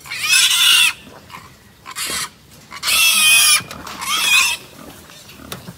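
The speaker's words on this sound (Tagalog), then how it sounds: "So yan po, iilan na lang ang mga biik na narito pa." Piglets on a pig farm squeal in shrill, loud bursts, roughly four high-pitched cries separated by short pauses, close by with no talk.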